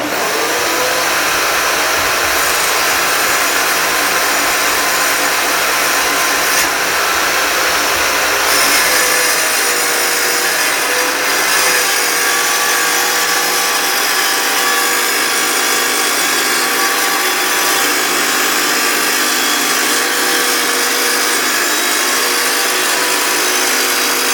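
A tile saw cuts through tile with a loud, continuous grinding whine that holds steady for the whole stretch, close by and with no voices over it.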